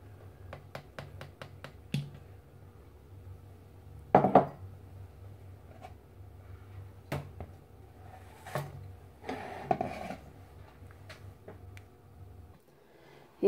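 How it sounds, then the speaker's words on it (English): Cocoa powder and boiling water whisked together with a large balloon whisk, giving quick light clicks and clinks against the bowl with a few louder scraping bursts, close and steady with no talk. "just watch me mix it in a large balloon whisk"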